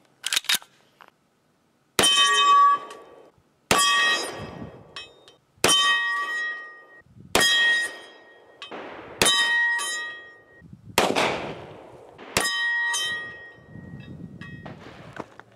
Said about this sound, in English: I'm gonna close it out with the 50 AE.